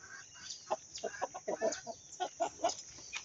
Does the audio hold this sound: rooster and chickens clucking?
yes